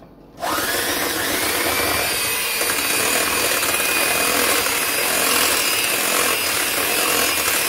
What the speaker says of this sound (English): Now you're going to use your electric mixer on high speed and mix it until stiff peaks form.